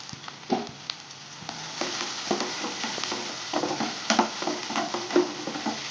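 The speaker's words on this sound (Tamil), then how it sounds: "எண்ணெய் காஞ்சோடனே வெங்காயம் போட்டுக்கோங்க அது நல்லா வதங்கட்டும்" Chopped onions sautéing in hot oil in a pan, a steady broadband sizzle with intermittent spatula stirs and scrapes, close and moderately loud, no voices.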